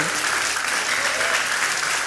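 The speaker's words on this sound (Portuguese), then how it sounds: "Você pode aplaudir mais uma vez, Aline" Steady applause from an audience in a church during an evening service, dense and continuous throughout, with no voices rising above the clapping.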